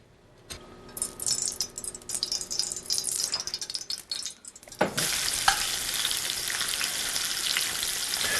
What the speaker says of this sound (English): the key here is to just sear the outer surface of the tuna and the peppercorns